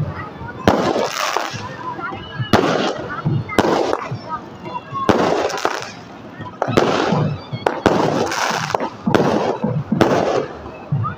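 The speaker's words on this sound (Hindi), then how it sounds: "हॉल के इधर भी आके पटाखे शुरू हो गए।" Loud firecrackers burst repeatedly at a wedding procession in irregular volleys, with crackling bangs and noisy voices in between.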